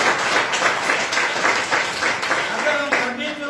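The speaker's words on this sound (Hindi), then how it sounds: "ताली बजाते" Audience applause during a Hindi Christmas sermon about Jesus, steady dense clapping from a crowd lasting the whole moment, fairly loud and continuous with a slight swell near the end.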